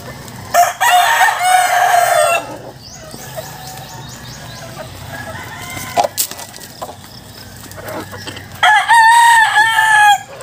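A gamefowl rooster of a Raptor Sweater line crossed with Boston crows loudly twice, near, with chickens clucking and scratching softly in between on a roomy free-range farm.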